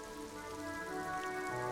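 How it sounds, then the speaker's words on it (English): Steady rain falls in the video game Disco Elysium, a constant soft hiss running under sustained tonal background music, with no break. "Your coat shields you from the rain."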